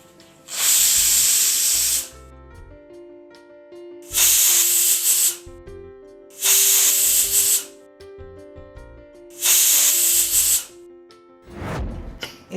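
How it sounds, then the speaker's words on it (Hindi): A pressure cooker cooking chana dal whistles in four loud, sustained bursts of hissing steam, each about two seconds long, with quieter cooker rumble between them and a clatter at the end. "चने की दाल को मैं 4 विसल्स आने तक पकाऊंगी"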